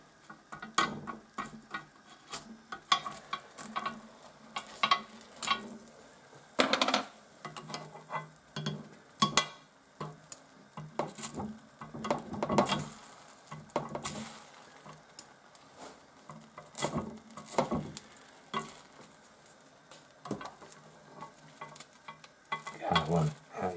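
Crumpets frying in a pan, sizzling quietly in bursts as they are flipped over, with scrapes and clinks from a utensil against the pan.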